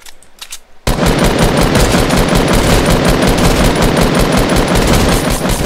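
Sustained automatic fire from a light machine gun in the video game Fortnite, a dense rapid stream of loud close shots running unbroken after a brief quieter lead-in.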